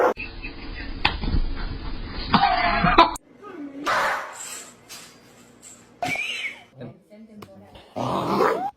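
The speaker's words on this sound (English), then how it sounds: "Oh, you growling at me?" A dog growls in low, rumbling stretches broken by short whimpers and yips, while a person talks and coughs close by.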